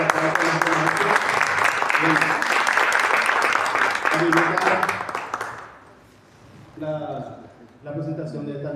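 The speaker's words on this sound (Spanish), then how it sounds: "Por favor, si le podemos dar un fuerte aplauso a nuestro maestro." An audience at a book presentation for an anthology on AI applauds loudly for about five seconds, the clapping then fading to near silence before a voice starts speaking.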